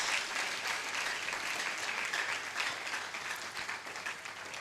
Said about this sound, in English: I thought we were going to do a better applause than this